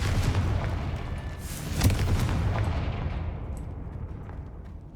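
Confringo fire spell explosion in the video game Hogwarts Legacy, a loud, rumbling blast with a sharp crack near the middle that trails off into a fading low roar.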